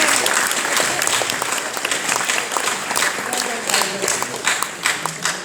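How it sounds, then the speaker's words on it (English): Sustained applause from a crowd at a company's 25-year anniversary celebration in Didcot, steady dense clapping filling the room with faint voices mixed in. "We'll give her a big round of applause then anyway."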